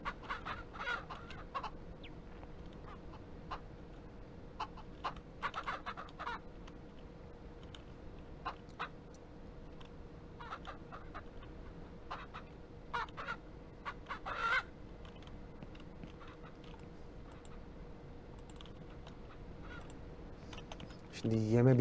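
Chickens clucking on a farm in the video game Ranch Simulator: scattered short clucks and squawks, some repeated in quick bursts, over a steady low hum, with a louder cluster at the very end.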